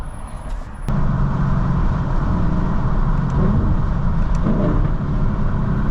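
Lexus LC 500 V8 engine droning steadily at close range during a drive, with a low rumbling tone that shifts as the car downshifts and faint crackles from the exhaust; no talking.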